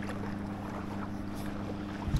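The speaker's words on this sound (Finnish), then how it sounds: "Mikäs vene siinä meni?" A motorboat passes on the lower reaches of a river at a fishing spot, its engine a steady low droning hum with a faint rise in noise near the end, and no voices.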